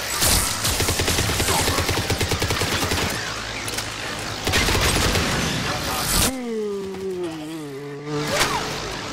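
Rapid automatic turret fire rattles loudly in bursts during a Cerberus firebase match on Glacier in a video game, with shorter gunfire later amid electronic warbling tones.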